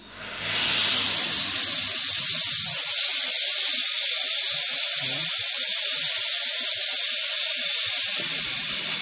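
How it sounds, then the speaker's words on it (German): A Vorwerk vacuum cleaner with its nozzle attached runs as a steady, loud, high-pitched hissing rush, starting up in the first second and holding level to the end, with faint low rumbles underneath and no talking. "schaltet den Staubsauger auf 2 oder 3"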